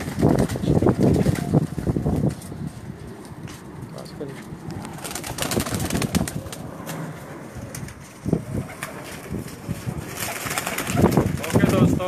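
Teddy pigeons coo in repeated rolling bursts at close range, with some wing noise and a voice talking over parts of the calls.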